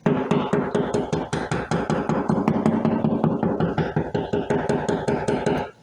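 A wall is knocked on to locate a stud, giving rapid repeated loud taps in a steady rhythm with a few heavier thuds, close and alone without talk.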